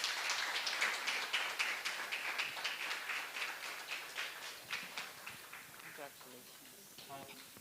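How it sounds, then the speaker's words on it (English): An audience claps at the close of a presentation at a year-end review event on the status of women in Ghana. The dense, even applause gradually thins and fades, and a voice starts speaking near the end. "Another warm round of applause."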